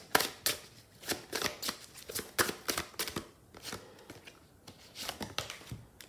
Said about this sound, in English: Let's shuffle some oracle.